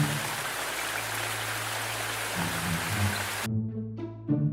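Steady heavy rainfall hisses as broadband noise under music, then cuts off abruptly near the end, leaving only the musical tones.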